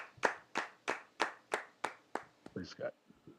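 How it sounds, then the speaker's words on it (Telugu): A seminar audience claps in praise of God, about seven slow, even, rhythmic claps in unison, followed by a brief murmur of voices. "చప్పట్లు కొట్టి దేవునికి స్తోత్రం చేయండి"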